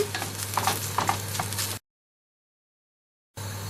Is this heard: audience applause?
no